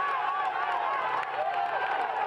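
A roadside crowd cheers riders on a mountain-top finish of a Vuelta a España stage, a dense continuous roar of voices and shouting at steady loudness, close and enveloping.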